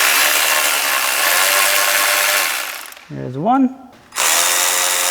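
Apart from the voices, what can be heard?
power tool removing MK7 water pump housing bolts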